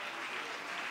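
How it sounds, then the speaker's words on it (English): Church congregation clapping as a praise offering, a dense, steady wash of applause filling the whole second with no break. "If you love Jesus, give him a clap and praise offering right now, would you?"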